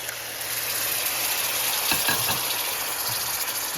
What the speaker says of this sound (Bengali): এখন আমি নারিকেলের দুধটা দিয়ে দেবো।